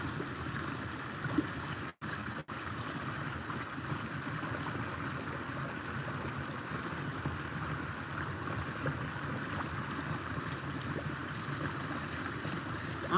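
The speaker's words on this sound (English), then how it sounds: "just listen to that water there, just and the bubbles" Continuous rushing and bubbling water at a top pond at Dimmingsdale in Staffordshire, an even outdoor wash with no voices and only a brief dropout early on.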